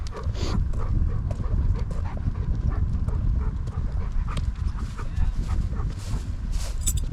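Several farm dogs pant and whimper close by while being loaded in for the night, a steady breathy texture running through the whole stretch with no talk over it.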